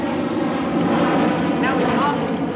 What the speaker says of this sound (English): There's a jumbo jet going over now.